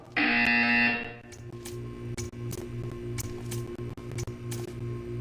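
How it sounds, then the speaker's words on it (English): A loud electronic buzzer from the video game Portal 2 blares for about a second, then fades into a steady hum with scattered faint clicks. "You will hear a buzzer."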